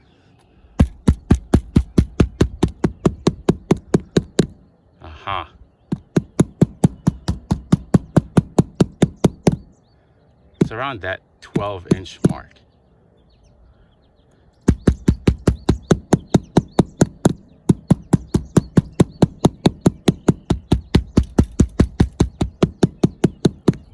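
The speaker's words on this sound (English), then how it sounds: "that's my first method of finding rafters, using your rubber mallet and listening for the echo back" Rapid, hollow knocking from a rubber mallet striking a roof to locate rafters, in long fast bursts, pausing twice while someone speaks briefly.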